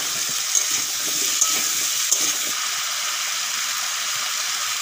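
Freshly cut, washed pumpkin pieces tipped into a pan of frying ginger and green chilies, giving a loud steady hiss of sizzling oil with a few small clinks, no voices.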